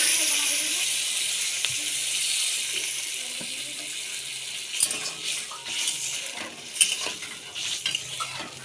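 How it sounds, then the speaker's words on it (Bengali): Water added to well-fried masala for an egg curry, starting as a soft sizzle and steam hiss, then pouring and splashing with stirring clatter in the pan, no voices. "মশলাটা আমার খুব ভালো করে কষানো হয়ে গেছে এবার এর মধ্যে আমি পরিমাণ মতো জল দিয়ে দিলাম"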